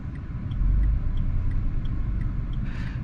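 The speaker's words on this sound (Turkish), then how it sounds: "Devir böyle iniyor çıkıyor." A Renault Symbol with the 0.9 TCe engine idles unevenly with the air conditioning running, its steady low engine drone swelling and sinking slightly under faint periodic ticking, with no talking.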